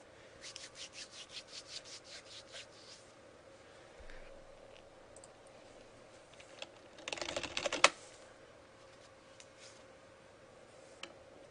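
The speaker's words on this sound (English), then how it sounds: "When I type, they feel the fury of my keyboard coming from the other side." Computer keyboard typing, a quick run of rhythmic keystrokes, then a pause and a louder dense burst of clattering keys and rubbing, with faint ticks afterward, close and alone.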